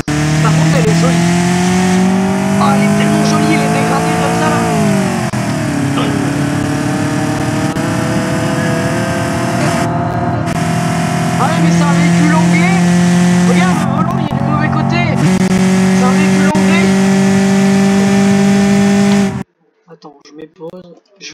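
A car engine in the BeamNG.drive driving game revs hard and climbs through several gear shifts, a loud sustained tonal drone with repeated rising pitch sweeps, ending abruptly into near silence.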